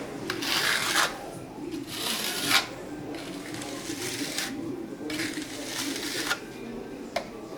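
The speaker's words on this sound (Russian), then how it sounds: "Наносим штукатурку, слой более-менее равномерный." Decorative plaster is spread onto a wall in a roughly even layer, giving repeated rasping, scraping strokes at a steady rhythm, fairly close and continuous, with no speech.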